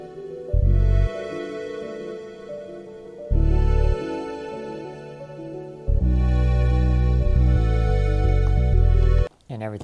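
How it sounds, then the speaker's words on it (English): An MPC Renaissance beat layering a synth, a filtered sample and a keyboard-played bass line, loud and continuous, with deep bass notes entering in short bursts before settling into a steady groove. "And then all three of those together sound like this."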